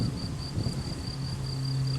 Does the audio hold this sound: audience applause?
no